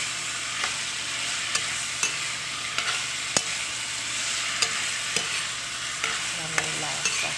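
Meat for igado, seasoned with salt and pepper, sizzles steadily in a hot pan, a dense crackling hiss that runs throughout while sharp clicks of a utensil stirring and scraping cut in every second or so.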